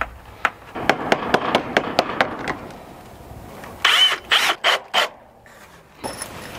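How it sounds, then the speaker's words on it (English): Screws being driven into old wood while predator-proofing a duck house, with a rapid run of sharp ratcheting clicks followed by a few louder, longer bursts, close and loud with no talk. "Just need to get enough screws in here to hold on to that old wood in there."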